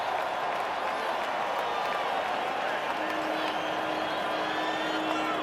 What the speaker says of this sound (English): That's crowd noise.